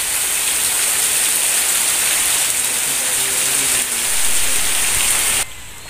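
Heavy rain pouring in the countryside, a loud, unbroken hiss of downpour drumming on surfaces nearby, easing slightly at the very end.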